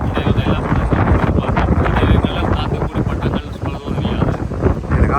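Strong, steady wind buffets the microphone at an international kite festival in Valvettithurai, a continuous loud roar with gusty swells throughout the clip.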